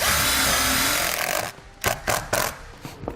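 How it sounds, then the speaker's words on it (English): A power drill whirs steadily, then stops and gives several short bursts as self-tapping screws go into aluminium awning trim on a 1998 Winnebago RV, close and loud. "we'll screw it in."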